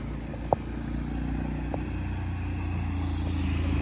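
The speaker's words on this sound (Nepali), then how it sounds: "बाइक आइरहेको छ" A motorcycle approaches at night on the main highway between Narayanghat and Mugling in Nepal. Its engine drone grows steadily louder as it nears, with a brief sharp knock early on.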